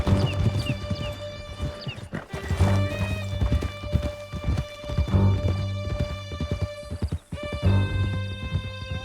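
Horses gallop with steady clip-clop hoofbeats in Red Dead Redemption II, one neighing now and then over a continuous musical score, hooves close and loud throughout.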